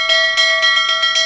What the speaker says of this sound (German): Läutest du etwa schon wieder die Glocke?